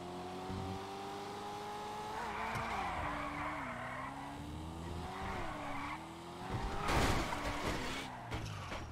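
A car drifts in the video game GTA, its engine revving and shifting pitch as the tires squeal and skid through the turn, with a brief harsher burst of noise near the end.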